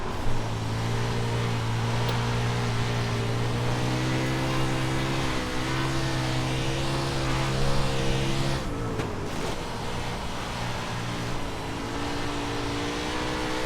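A 410 winged sprint car engine in iRacing, dirt track racing, holds a steady loud drone with a throttle dip and surge partway through, close and continuous.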